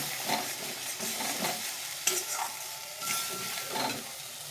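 Soybeans with a dissolved dry-spice paste frying in a pan, a continuous close sizzle broken by soft irregular stirring scrapes and a faint clink of utensil on metal, with no voices.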